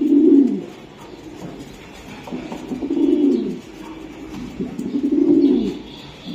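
Racing pigeons cooing in a loft, three low, rounded coo phrases spaced about every two and a half seconds, close and fairly loud, with faint background rustle and no talk.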